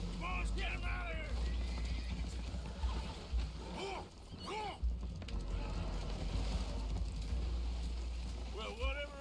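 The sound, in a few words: spooked horses in Red Dead Redemption 2 video game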